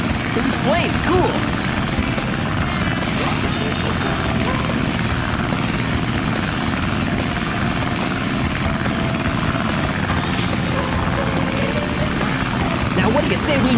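Engine of Tails' plane in the video game Sonic Adventure, a loud, continuous propeller drone held steady throughout amid other game sounds.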